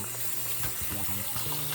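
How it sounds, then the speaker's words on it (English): Water runs steadily while soap is rinsed off a full-body silicone reborn doll at bath time, a soft continuous faucet hiss with a faint low hum beneath. "we're gonna rinse the water out, the soap off of her."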